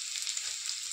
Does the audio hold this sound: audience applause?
no